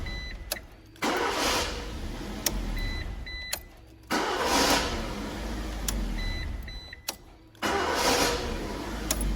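The starter motor cranks the engine of a Suzuki Swift three times after a starter relay repair, with the relay grounded by a jumper cable. Each loud, close, steady whirring burst lasts two to three seconds, set off by sharp clicks, with no sign of firing.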